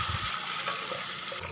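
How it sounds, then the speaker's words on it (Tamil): Water gushes steadily into a cooking pot for banana stem soup, a continuous close splashing fill that runs evenly for a second and a half without any voices. "போடுறேன் சூப்புக்கு தேவையான அளவு தண்ணி."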